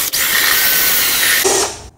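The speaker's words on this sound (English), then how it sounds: "I'll make the hole for the conduit." A power drill bores a hole for electrical conduit during a 20 amp circuit installation, its loud, close whine running steadily for almost two seconds, with a brief change in pitch near the end before it cuts off.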